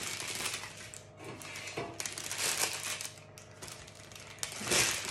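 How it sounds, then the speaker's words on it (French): A chocolate cake is peeled out of its paper wrapper in bursts of close, crisp crinkling and rustling, with small pauses between handling. "Je le ressors de son papier."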